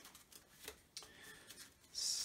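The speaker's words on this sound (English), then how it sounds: "nice quick shuffle" A deck of Arkham Horror card game cards gets a quick shuffle, soft riffling and flicking taps close by, ending in a brief bright burst of card noise.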